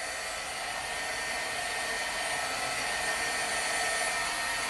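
A hair dryer blows steadily on a wet watercolor painting, a constant close, even whoosh that holds without break throughout.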